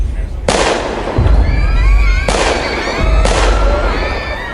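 Gunshots ring out in a narrated horror story, three sharp broadband blasts spaced roughly a second or two apart, each trailing into reverberant noise with a low rumble underneath, loud and close.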